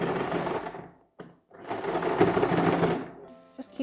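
A sewing machine stitches fabric in two quick rattling runs with a short pause between, close and moderately quiet, ending with a brief mechanical tick.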